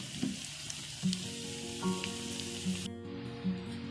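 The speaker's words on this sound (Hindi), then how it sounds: "ये नगेट्स फ्राई हो गए थे, मैंने निकाल लिए सारे।" Chicken nuggets deep frying in hot oil give a soft, steady sizzle and crackle, fairly quiet and close, with faint periodic clinks over the bubbling and no talking.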